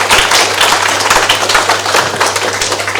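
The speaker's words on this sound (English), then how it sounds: "A round of applause for you." An audience claps at a staff graduation ceremony, steady loud applause from many hands filling the room without pause.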